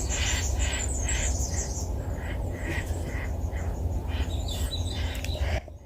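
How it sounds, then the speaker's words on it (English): Birds squawk loudly and repeatedly in harsh, crow-like calls over steady outdoor noise, continuing for several seconds before cutting off abruptly near the end. "Birds aren't happy about it either"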